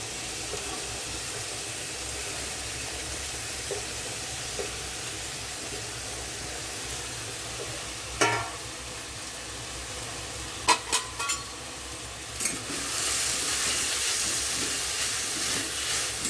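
Grated eggplant frying in melted ghee gives a steady, soft sizzling hiss throughout, broken by a few faint clicks and stirring scrapes near the end.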